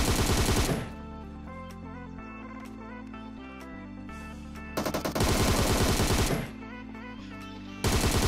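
Automatic gunfire from a PUBG Mobile match, loud bursts at the start, middle and end separated by quieter game music and ambience, with no speech.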